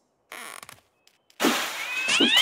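A cat meows close by in two short cries, one sharp and one drawn out, following a few faint soft sounds and a quiet gap.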